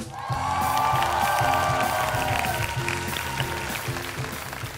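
A studio audience applauds a contestant on a Vietnamese singing show, a loud, steady wash of clapping with some cheering that holds for several seconds and then eases slightly, with faint music underneath.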